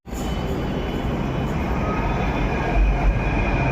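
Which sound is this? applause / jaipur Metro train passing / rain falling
jaipur Metro train passing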